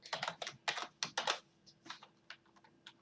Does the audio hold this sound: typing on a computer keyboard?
yes